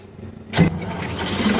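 A generator engine cranks and fires up after a new controller module is installed, a loud burst of starting followed by a steady running drone, with no talking.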